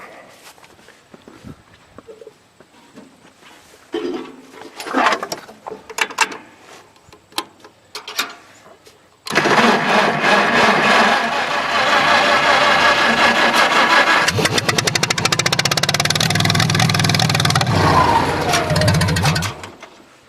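An old piece of farm iron with an aging battery cranks over after scattered clicks and handling noises, then a loud, sustained churning roar of the engine turning and catching runs close up for about ten seconds before dying away.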